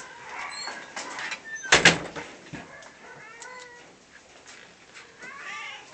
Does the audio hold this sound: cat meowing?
yes